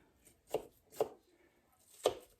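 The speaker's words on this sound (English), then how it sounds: "right now, I chop it up about 1/2 of a Vidalia onion." A knife chops half a Vidalia onion on a board in three crisp, separate strikes, quiet and close, with no talking.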